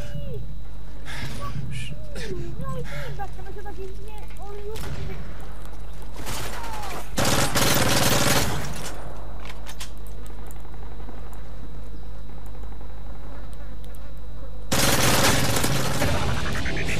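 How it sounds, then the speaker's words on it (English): Gunfire in the video game Call of Duty: Modern Warfare 3, with loud bursts of rapid shots and single cracks spread across the clip, a heavy volley in the middle and another near the end, over a steady game background with a voice talking at times. "Where am I shooting at?"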